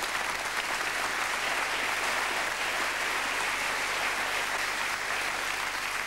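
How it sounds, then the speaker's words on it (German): A studio audience at a German television show applauds, a dense, steady wash of clapping that stays loud and unbroken with no speech over it. "Ein Applaus, meine Damen und Herren."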